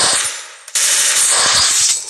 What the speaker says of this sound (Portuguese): Tomando tiro pelo lado.